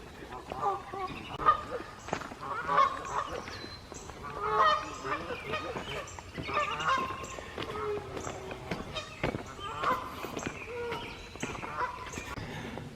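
A goose honks repeatedly by a lake in a forest, loud nasal calls spaced every second or two, heard close and mixed with someone speaking and some rustling footsteps.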